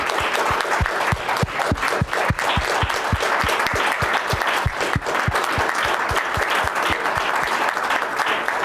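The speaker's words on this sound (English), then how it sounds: "can you give them a big round of applause" At a 50th anniversary Vietnam War commemoration ceremony, a large crowd gives the veterans a big, sustained round of applause, dense clapping underlaid by a steady, evenly spaced rhythmic beat of unison claps running throughout.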